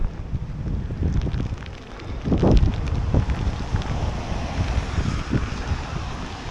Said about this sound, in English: you got to expect a bit of wind noise if you're in this situation